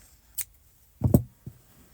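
Scissors snip through the yarn tail of a crocheted beanie, one light click followed by a few close, crisp cuts in a quiet room.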